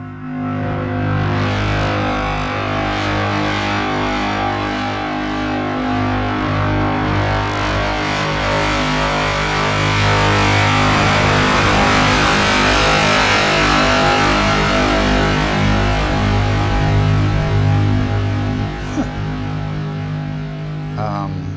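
Overdriven techno rumble tones from an Elektron Tonverk sampler give a dense, distorted, droning low-end wash that sustains loudly and continuously with layered pulsing texture.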